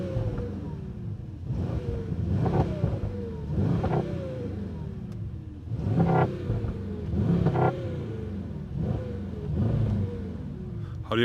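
A Mercedes S63 AMG E-Performance with its V8 biturbo hybrid engine revs repeatedly, several rising exhaust pulls and rumbling swells heard from close by, each surge fading back to a steady idle between bursts.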